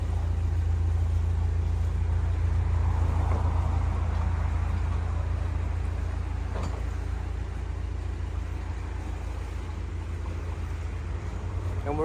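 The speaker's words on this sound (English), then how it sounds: "we're in the din of the traffic, so you can hear the A5" Steady low rumble of road traffic on the A5, heard from a canal, continuous and fairly loud, with vehicles passing and no talking.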